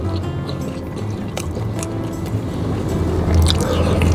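Close, loud biting and wet chewing of Padang-style fried chicken, with crunchy, squishy mouth sounds repeating steadily throughout.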